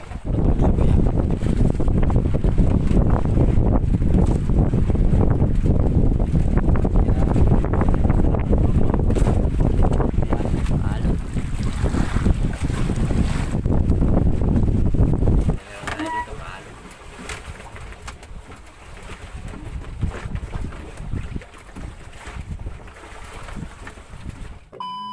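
Strong wind gusting at night on the open sea off Masbate City during a night fishing trip by boat, a loud continuous roar buffeting the microphone for about fifteen seconds, then dropping to a quieter rumble with softer gusts.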